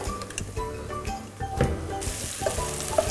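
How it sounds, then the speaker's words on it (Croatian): Onion, shallot and parsley sizzle in olive oil in a pan, a soft, crackling fry with small pops and occasional stirring scrapes, fairly quiet and close, with no speech over it. "na maslinovom ulju ćemo zažutiti malo kapule, peršina i luka"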